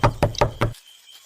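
Four firm knocks on a door in a Hindi audio drama scene, close and evenly spaced, followed by near silence.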